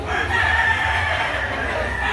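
Chickens and roosters at an outdoor poultry market behind SM Lipa City, Batangas, cluck and crow together in a dense, steady din with no pauses.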